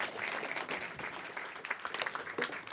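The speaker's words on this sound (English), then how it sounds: "Big round of applause, please, for Ken and Matt" Conference audience applause for the speakers at a cybersecurity and sustainability event, a soft, distant, continuous patter of many hands clapping.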